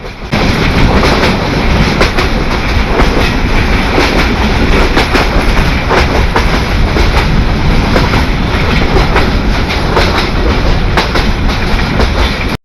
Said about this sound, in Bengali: ময়মনসিংহ সেকশনের লাইন খুব একটা ভালো না থাকায় এই সেকশনে প্রচুর আওয়াজ হয়। কিছু সময় আপনার রেল ট্র্যাকের আওয়াজ উপভোগ করুন।